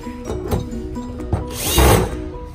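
A power drill tightens screws on an X-shaped swiveling TV wall mount bracket fixed to the back of a television, giving short whirring bursts close up with clicks and handling knocks between them.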